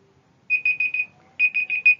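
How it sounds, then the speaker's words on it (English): A countdown timer alarm beeps in two rapid groups of four high electronic pulses. The beeps are loud and clear against near silence. "Timer stops."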